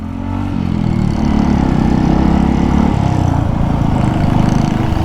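A small engine runs steadily and loudly at an outdoor night light display in San Jose City, Nueva Ecija, its pitch shifting and climbing through a rough, continuous drone with no talk over it.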